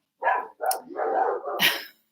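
Several dogs bark in a quick series of sharp, close barks, one after another over about two seconds, with no voices over them.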